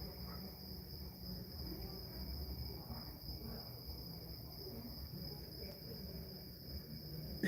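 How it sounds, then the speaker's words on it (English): Crickets and other insects chirp steadily at night in a dense, continuous high-pitched chorus that holds at an even level throughout, with no talking. "There are so many insects."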